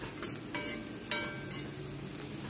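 Plantain and breadfruit frying in a pot, with a spoon stirring through them: a steady crackling sizzle and a few soft scraping strokes, close up, with no voices.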